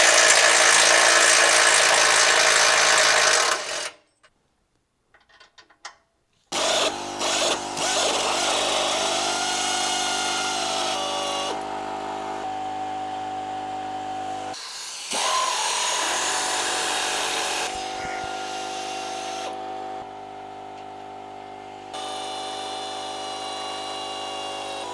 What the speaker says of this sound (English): I'm going to remove these 8 nuts connecting the bumper to the frame using an 18mm deep